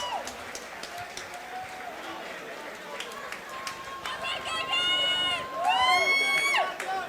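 Crowd at an XFN 37 fight event cheers and claps for fighter Yves Nelson, a steady roar of voices with whoops and whistles that swells louder toward the end, with shouting near the front.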